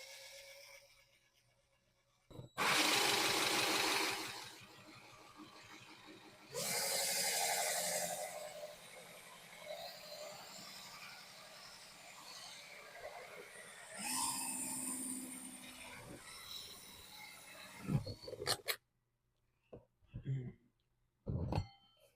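A power drill with a pilot bit whirs in several loud bursts with pauses between, drilling into a plastic storage tub, while a person talks nearby; a few clicks and knocks follow near the end.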